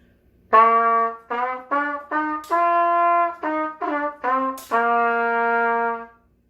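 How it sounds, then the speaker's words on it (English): A brass instrument plays a sequence of clear sustained notes, the pitch shifting as its valves are pressed, with short separated tones followed by a longer held note, loud and close with no voices. "It sounds like this when you play with valves."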